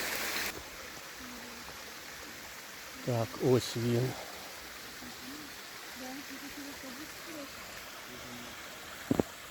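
Small waterfall on the Syrets river, a steady faint rush of flowing water under brief nearby talk.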